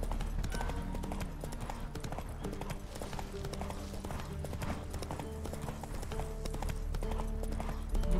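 A horse galloping in the video game The Witcher 3: Wild Hunt, with continuous rhythmic hoofbeats over game music and ambience, steady and fairly loud throughout, with no voices.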